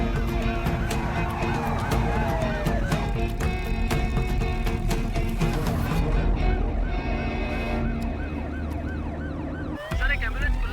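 An ambulance siren wails steadily in a busy scene, its rising and falling tone sounding close and loud over a dense mix of music and background noise for about ten seconds.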